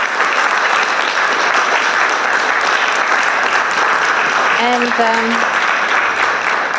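An audience at a startup panel event claps for the panel members. The applause is loud and steady and carries on throughout, and a voice speaks briefly over it near the end.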